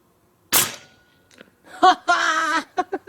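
A Hatsan Hercules air rifle fires a single sharp, loud crack at a target 135 metres away, followed by a short decay and then nearby laughter and voices.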